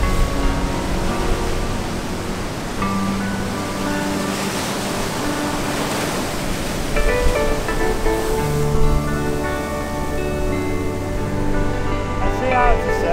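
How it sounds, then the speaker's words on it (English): Steady roar of surf breaking on a surf beach near Denmark and Walpole, a broad continuous wash of waves with some tonal rumble underneath, fairly loud and close. "Look at the waves. Well, it's a nice beach"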